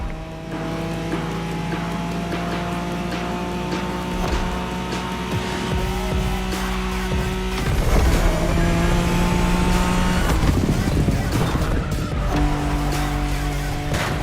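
Nissan Skyline racing in The Crew Motorfest, a steady loud engine drone with gear-change shifts and bursts of tire noise and skids running throughout, alone without talk.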